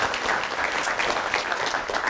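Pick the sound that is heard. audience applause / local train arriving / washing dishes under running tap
audience applause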